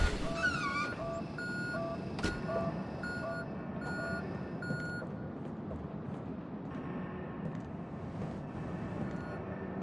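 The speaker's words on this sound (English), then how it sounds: "See if we can't follow the beeping some more." Electronic beeping in the horror video game Conarium, a series of short repeated tonal beeps over a steady low machine hum and rumble, moderately loud throughout with no talking.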